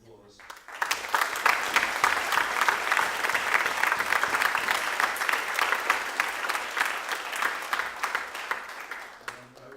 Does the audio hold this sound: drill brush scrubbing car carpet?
no